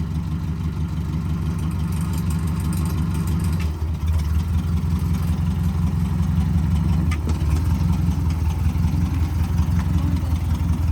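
A farm tractor engine idles steadily nearby, a low, even rumble that holds for about eleven seconds with no voices over it.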